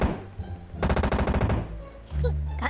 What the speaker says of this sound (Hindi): कहाँ से गोलियां मार रहा है यार ये लौंडा